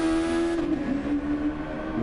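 Formula 1 cars from 1998 on a Austrian circuit in a racing game, a steady engine drone with tonal whine that holds and shifts pitch, continuous and fairly loud throughout, no voices.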